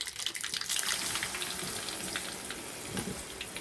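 Ground garlic paste hits hot oil with turmeric, giving a steady, fairly loud hiss and crackle that holds throughout, close up and with no talk.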